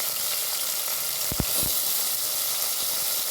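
Sprouted beans with red chilli powder sauté in a hot pan, giving a steady close hissing sizzle with a couple of quick spoon clicks partway through.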